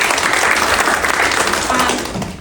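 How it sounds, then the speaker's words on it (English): Audience applause at a concrete-industry leadership event in Brisbane, a dense wash of clapping held steady at close range for a couple of seconds, with some background voices mixed in. "firstly, round of applause."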